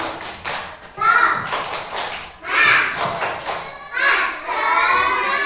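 Schoolchildren in an Islamic religious-education class in Indonesia do the "tepuk semangat" clapping chant: loud children's voices chant in bursts over a rhythmic pattern of claps and thumps, in a lively classroom.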